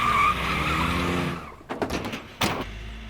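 A band's vehicle pulls away: steady engine and road noise fade out after a second and a half, followed by a few short scrapes and clunks and a sharp door-like knock near the end.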